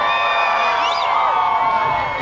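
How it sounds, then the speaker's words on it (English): A crowd cheering and whooping in the stands at a high school football game, a loud, sustained roar with rising shouts and a few sharp whistles layered on top. "The crowd having some fun over here"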